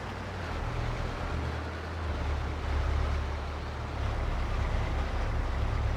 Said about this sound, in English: I'm gonna drive the tractor to the field.